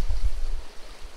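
A small mountain stream in trout country flows steadily nearby, a continuous low watery rush with a slightly heavier surge at the start, alone with no voices.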